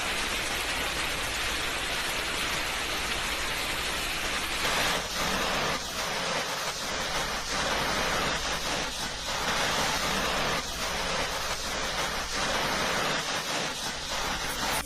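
Dense, steady roar of heavy rain with a hard, hissing patter, intensifying partway through with sharper clattering impacts of hail striking surfaces nearby, during a violent hailstorm in Beijing.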